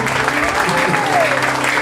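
Church congregation at a Sunday service in Lomé, Togo, clapping together in a dense, steady wash of applause with voices mixed in.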